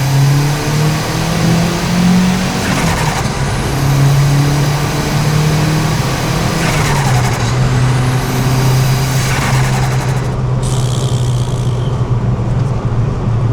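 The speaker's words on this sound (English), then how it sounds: "We'll go for a third gear pull." A turbocharged car accelerates hard through a third-gear pull, its engine note loud and close, droning and climbing steadily with several sharp whooshing bursts, and no talking over it.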